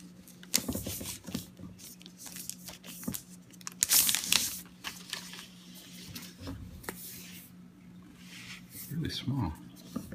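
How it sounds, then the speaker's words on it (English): Plastic envelope being pulled from a 12-inch Retina MacBook box, with crinkling and rustling bursts near the microphone alongside a low steady hum, and a person talking over the handling sounds. "Go ahead and get out the little plastic envelope thing."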